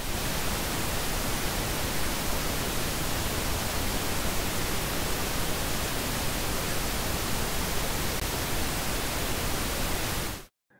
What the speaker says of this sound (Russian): Вот наш шум розовый.